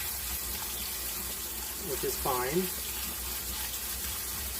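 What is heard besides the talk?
kitchen faucet running, spraying water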